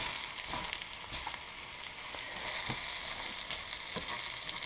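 Eggs stirred in a hot frying pan make a steady sizzle broken by regular soft scrapes and clicks of the utensil, fairly quiet and close, with no talking.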